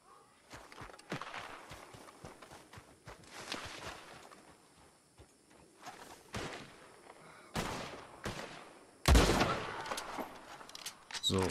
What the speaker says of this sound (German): Irgendwo schießen sie noch.